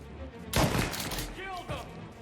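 Henchmen open fire in Mafia: Definitive Edition, a loud burst of gunshots erupting suddenly and rattling on for about a second before settling into lighter scattered reports and a voice.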